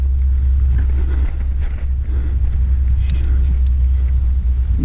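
A low engine rumble of a nearby motorboat drones steadily, with wind buffeting the microphone and no clear voices.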